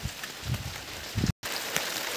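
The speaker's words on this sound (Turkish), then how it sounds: "Hızlı bir yağmur geliyor" Quick rain falls on potted flowers and succulents outdoors, making a steady patter with a few heavier drops and a short dropout partway through.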